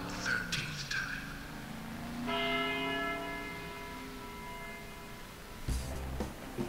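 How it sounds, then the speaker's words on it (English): A church bell in the video game Deadly Premonition tolls with a long, ringing, sustained tone that slowly decays, with a quieter strike before it and a thud near the end. "After the 12th time, the bell did not stop ringing. It rang a loud 13th time."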